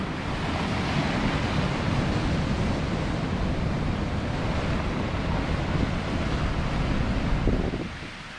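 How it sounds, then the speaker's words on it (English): Rough sea waves crash on a boulder beach on the Northumberland coast, a dense continuous roar of surf and rolling stones close by, with wind buffeting the microphone throughout. "Listen to the noise of the boulders getting dragged back."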